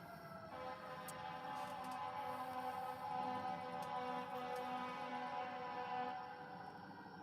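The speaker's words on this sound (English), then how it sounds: "I'm going to let this siren go past." An emergency vehicle siren wails past at night outside a house, a steady distant tone that swells slightly in the middle and fades toward the end, with no voices over it.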